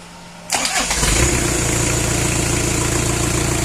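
A turbo diesel 4x4 engine cranks briefly and catches, then settles into a loud, steady rumbling idle close by, with no talking.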